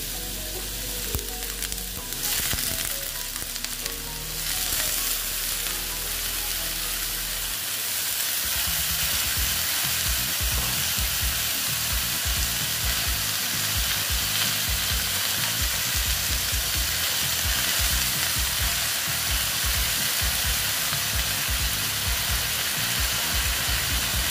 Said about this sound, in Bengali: এখন আমি শাকগুলো দিয়ে দিচ্ছি